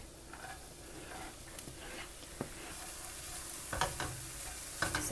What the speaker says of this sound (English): So I'm going to saute this with my onions that I just chopped up